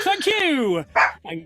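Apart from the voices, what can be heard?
dog barking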